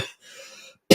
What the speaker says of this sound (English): My cough is getting bad